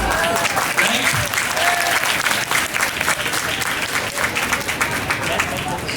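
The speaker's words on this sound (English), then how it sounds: "Stop clapping." Loud, dense applause from a large college audience at an evening function, sustained clapping filling the whole stretch with some crowd noise mixed in.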